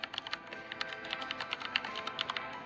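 Fingers typing a file name on a computer keyboard: a quick, irregular run of close, crisp keystrokes with no pauses, heard alone.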